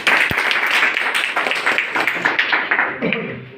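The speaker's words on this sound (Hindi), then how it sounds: "छोटन जी के लिए ताली बजा दो।" An audience claps for Chhotan ji, a participant called up at a motivational event in India, with steady clapping, a sharp thump near the start and a voice coming in as the clapping tapers.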